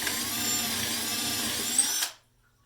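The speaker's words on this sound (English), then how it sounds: "I have a 3/8 inch drill bit here in my cordless power drill, and I am going to drill" A cordless power drill with a 3/8-inch bit whines steadily as it bores holes partway into wood for about two seconds, close and loud, then stops abruptly into silence.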